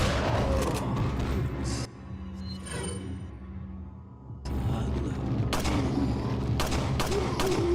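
Rapid semi-auto rifle fire in Resident Evil 4, loud dense bursts of shots with mechanical clatter, briefly pausing mid-clip before the volley resumes strongly.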